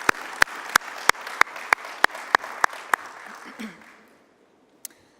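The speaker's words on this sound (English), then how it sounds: "So give yourself a round of applause." A conference keynote crowd giving a round of applause, heard as a dozen or so sharp, evenly spaced claps ringing close and distinct, then a quick fade to near silence with one last stray clap.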